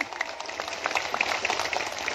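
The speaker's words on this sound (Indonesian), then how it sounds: "Tepuk tangan dulu dong buat panitianya." Audience applause for the organizing committee at a Muslimat NU religious gathering in Desa Bumi Makmur, Cilacap: a steady, moderately faint patter of many hands clapping throughout, with no clear talk over it.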